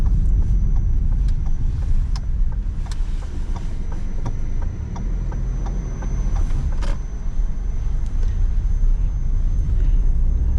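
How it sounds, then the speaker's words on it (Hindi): A Suzuki Swift drives off-road with a steady low rumble of engine and tyre noise, scattered knocks and clicks from the rough ground running through it. "मैंने थोड़ी बहुत तो यहाँ पे ऑफ रोड पे चला के देखी है गाड़ी"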